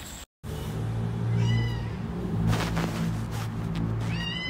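Kittens meow repeatedly at close range, several rising calls scattered through the clip over a steady low background hum, after a brief cut to silence near the start.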